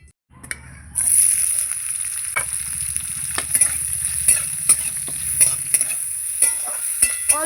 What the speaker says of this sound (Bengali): মাছটা আমি ভেজে নেব।